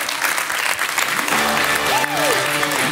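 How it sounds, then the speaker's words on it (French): Audience applause for prize winners at a French conference on transport decarbonisation, a short burst of clapping that continues steadily with a tonal voice-like sound rising over it midway. "on peut les applaudir."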